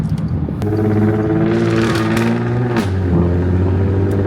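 A Porsche 955 Cayenne Turbo V8 with a muffler delete and X-pipe revs loudly up close, its droning, brassy exhaust note rising and then settling back to a steady idle.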